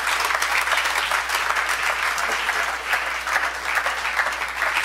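A church congregation applauds to acclaim the Lord, dense, loud and continuous clapping that fills the space evenly with no breaks.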